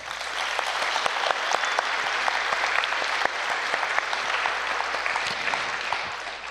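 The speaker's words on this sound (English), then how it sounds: "Please give a huge round of applause for Madhav." A seated audience at a mridangam arangetram recital claps in a sustained, dense round of applause, a steady wash of many hands with a few sharper individual claps, heard from within the hall and lasting throughout.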